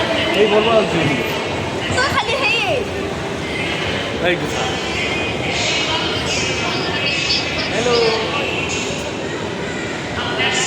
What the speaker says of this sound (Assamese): এতিয়া মেট্ৰ' ষ্টেচন গৈ আছোঁ